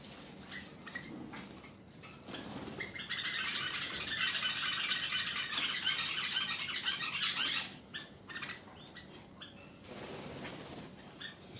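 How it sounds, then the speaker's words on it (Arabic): A caged bulbul bathes, its wings fluttering and splashing water in a fast, rattling burst that swells for several seconds and then fades into softer sporadic splashes, with no talk. "السبح يساعد على نظافة البلبل من الفاش"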